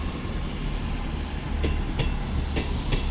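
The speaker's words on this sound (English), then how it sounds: "the first train of the day, will be a class 221 for Cross Country, working a service from Edinburgh to Penzance" A Cross Country class 221 diesel unit, working Edinburgh to Penzance, rolling into Sheffield station, with a steady engine rumble and several sharp wheel clicks over rail joints, close and loud.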